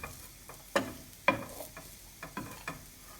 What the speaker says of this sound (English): So I'm going to squash it down a little bit with my spatula to help it along.